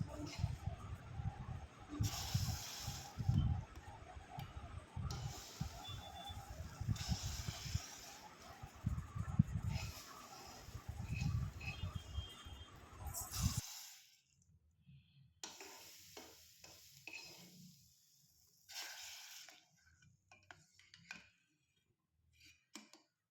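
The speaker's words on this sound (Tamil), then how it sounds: "அதில் இந்த ரவாயை போட்டுக்கலாம். எல்லா ரவையும் போட்டு நல்லா மிக்ஸ் பண்ணிடணும்." Semolina for rava payasam is stirred into milk in a pan, giving repeated close scraping and swishing strokes for over ten seconds before the sound drops to quieter, sparse clinks and faint stirring.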